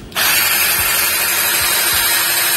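A power drill fitted with a Taro HSS 4341 titanium bit bores into wood, starting abruptly and then whirring loud and steady at close range without talk.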